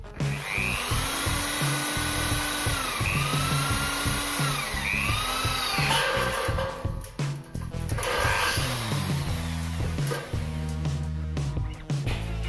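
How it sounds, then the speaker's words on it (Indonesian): A Krisbow 13mm electric impact drill with a soft-metal bit whines and grinds steadily at low speed into light steel, its pitch rising and falling as it bites, with clattering and scraping throughout. "saya akan mencoba mengebor baja ringan menggunakan mata bor yang khusus untuk logam lunak"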